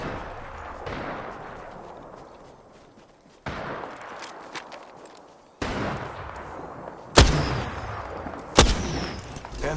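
Gunfire in the battle royale Apex Legends during a Season 12 ranked match, distant bursts at first that build into closer, louder volleys with two sharp nearby shots near the end, over a steady rumble.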